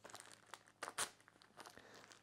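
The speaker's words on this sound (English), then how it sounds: "I'm cutting the packet open." Plastic packet holding an ACL HN022 rear main seal for a Holden V8 engine being cut and torn open, a close, quiet run of crinkling and tearing with a sharper rip near the middle.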